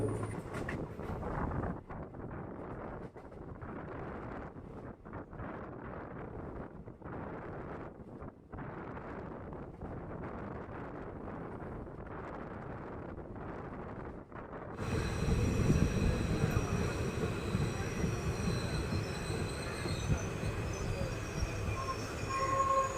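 A passenger train rumbles along a single-line track in Alappuzha toward Punnapra railway station. The steady rolling noise swells louder partway through, with a brief tonal sound and some wind buffeting, and a voice is faintly heard.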